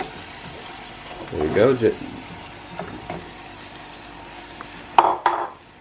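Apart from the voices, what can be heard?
stirring pheasant and vegetables frying in a pan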